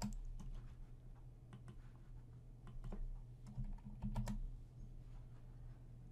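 Computer keyboard keys tapped in short irregular bursts of clicks, as for Control-C and Control-V copy and paste shortcuts, close and fairly quiet over a low steady hum.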